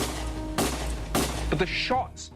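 Several gunshots from a movie sound effect, with three or four sharp, loud cracks spaced about half a second apart over a rumbling background, followed by brief metallic noise. A voice speaks over part of it.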